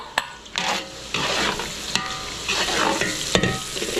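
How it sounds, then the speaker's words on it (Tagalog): Garlic, onion and ginger sautéed in a pan, a close hissing sizzle that swells and fades with stirring, punctuated by a few sharp clanks of the utensil against the pan. "igigisa muna natin yung bawang, sibuyas, luya, kamatis ng isa-isa"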